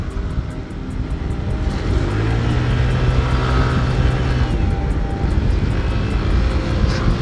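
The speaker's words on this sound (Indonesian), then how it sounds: "Jadi kalau nge-review kayak gini bisa kedengeran suara mesinnya." Honda PCX 160 scooter fitted with 12 g rollers, its engine running steadily and loudly throughout at close range with a continuous droning hum and no talk over it.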